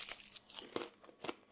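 Close, crisp crunching of freeze-dried vegetables being chewed, with a few sharp bites in an uneven rhythm and no talking.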